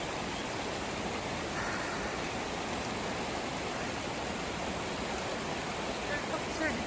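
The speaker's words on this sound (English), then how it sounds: "Just left camp and have our first water crossing." A cold mountain stream at a trail crossing on the Pacific Crest Trail near Selden Pass rushes steadily and broadband, a constant close hiss of flowing water with no clear breaks.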